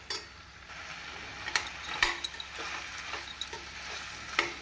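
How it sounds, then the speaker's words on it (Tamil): Village-style brinjal kulambu being stirred in a pan after turmeric and masala powder go in, with a steady low sizzle and scattered scraping clicks of a spoon against the pan. "நன்றாக நாம் குழம்பு பொடி கலக்கும் வண்ணம் கிளறி விட வேண்டும்"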